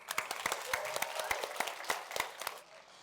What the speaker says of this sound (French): s'il vous plaît, un tonnerre d'applaudissements pour eux.